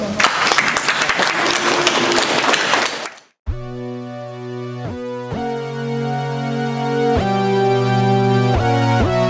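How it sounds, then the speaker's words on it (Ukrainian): A concert audience claps to welcome artists onto a stage, a dense roar of applause for about three seconds that cuts off abruptly as loud sustained instrumental music with strong beats begins. "прошу оплесками зустріти наших артистів"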